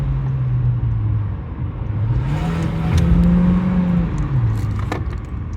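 A Chevy Cruze 1.4 turbo, one with a PCV fault, revving up under acceleration, its engine note rising and falling in pitch as it climbs, heard close and steady with road rumble beneath.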